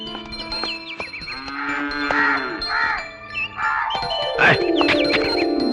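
A cow lets out a long, low moo in a village film scene, with other harmonic tones and background sounds layered around it.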